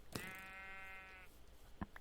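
A single drawn-out sheep bleat from the Minecraft video game, clear and close, with a couple of short clicks before and after.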